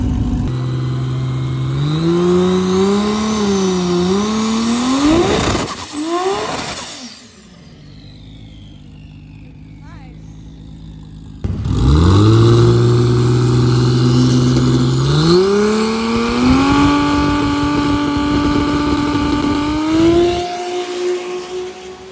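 A race car makes a qualifying pass, its engine revving hard through rising gear pulls, dropping to near quiet for several seconds, then roaring up through the gears again, loud and close.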